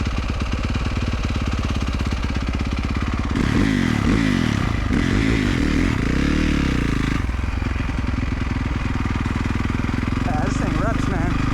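EFI 450 dirt bike motorcycle revving and ripping nearby, a loud continuous buzzing engine with rising and falling pitch sweeps, a rider's voice talking over it.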